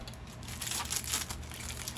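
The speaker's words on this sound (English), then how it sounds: "I have to crumble it up because he will eat it." Tape being crumpled into a ball by hand, a close, steady crinkling that swells slightly midway through the two seconds with no talking.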